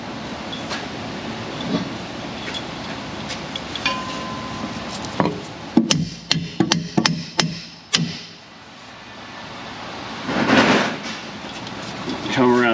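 A burst of sharp metallic hammer blows on a leaf spring hanger bolt of a rusty Chevrolet Silverado, about eight strikes in quick irregular succession, close by, with a murmur of voices and workshop noise around them.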